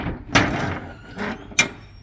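A truck trailer's rear doors are lifted and swung open during a drug trafficking inspection, giving a series of metallic clunks and rattling scrapes, the last one a sharp bang, close and fairly loud.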